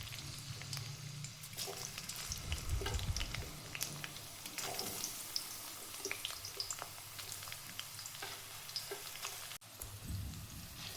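Bitter gourd frying in oil: a faint, continuous sizzle with light scattered crackles and a low rumble underneath, and no voices.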